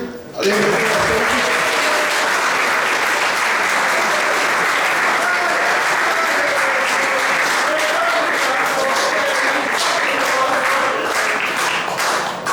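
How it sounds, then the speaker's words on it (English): Sustained, loud applause from an awards night audience clapping for second and third place finishers, a dense continuous wash of many hands that holds steady for over twelve seconds. "I'm going to tell you who was second and third, just so you give them a clap"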